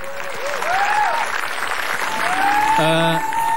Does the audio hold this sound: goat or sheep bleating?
no